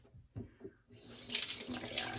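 Tap water runs while a funnel used for filtering ocean water is rinsed out. A couple of soft knocks come first, then a steady, close faucet stream gushes to the end.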